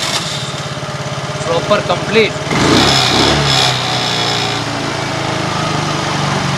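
A Hero Duet scooter running on an LPG kit with the petrol system off is switched on and starts, settling into a steady close idle drone after a brief rattle, while someone talks over it.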